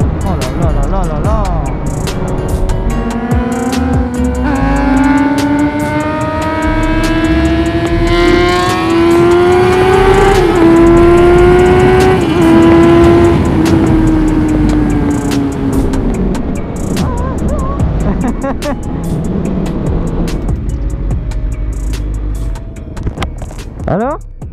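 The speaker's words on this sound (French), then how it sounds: "C'est un kiff d'avoir une moto qui fait du bruit, hein? Vraiment du bruit" A Suzuki GSX-R motorcycle engine revs hard and close, its pitch climbing and falling through long, loud sweeps before it settles back, with people talking around it.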